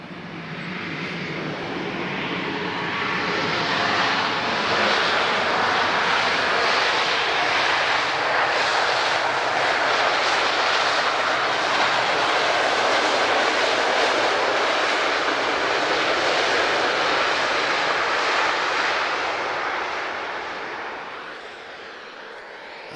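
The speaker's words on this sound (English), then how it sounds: "My favourite aviation sounds, full reverse thrust." Ryanair jet airliner landing under full reverse thrust, a loud broad roar that swells in, holds steady for a long stretch and then fades away, with no talking.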